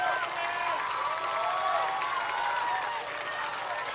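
Audience applause at the close of a concert performance, a dense, steady wash of clapping with some crowd noise that holds evenly throughout.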